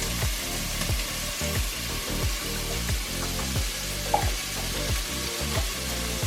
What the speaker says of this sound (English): You hear the sizzling?